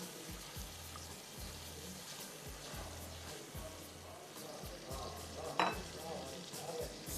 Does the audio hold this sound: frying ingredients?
yes